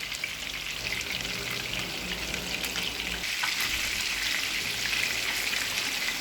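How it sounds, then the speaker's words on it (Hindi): Chapli kebabs frying in oil over a medium flame, a continuous, even crackle and spatter like steady rain, moderately loud and close, with no voices. "मीडियम फ्लेम पर कबाब को फ्राई करेंगे।"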